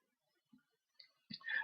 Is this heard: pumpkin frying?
no